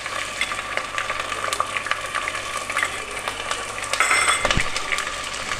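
Garlic ginger paste frying in hot oil, a steady close sizzle with crackling pops and occasional stirring scrapes, no talking over it.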